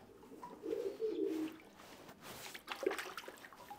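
A pigeon coos softly in a low, throaty burst lasting about a second, followed by a brief quieter call near the end, with faint rustling and watery background noise.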